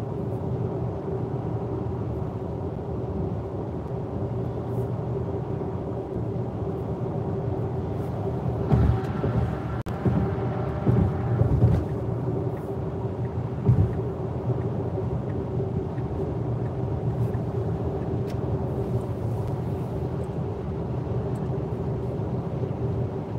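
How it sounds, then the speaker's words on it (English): Inside a quiet electric Tesla Model X on the highway, a truck driving alongside gives a steady low rumble and engine drone over road noise, with a few louder thumps midway and no talking. "You can hear the truck next to us."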